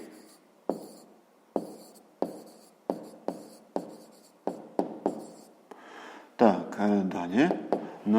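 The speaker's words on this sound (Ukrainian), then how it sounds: "Пишемо тоді відповідь" A pen taps and scratches on paper in a run of short, separate strokes, close and fairly quiet, with near silence between marks; a voice briefly speaks near the end.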